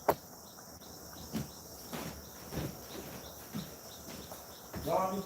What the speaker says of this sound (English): There's crickets and birds in the background chirping.